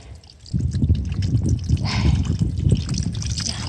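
Water trickles and splashes steadily at close range beside a hiking trail on the Appalachian Trail in the Smoky Mountains, with no talking.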